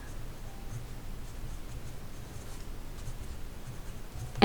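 A fountain pen writes on paper with purple sketch ink: a faint, steady scratchy rustle of the nib close up, continuing quietly for several seconds with no talking.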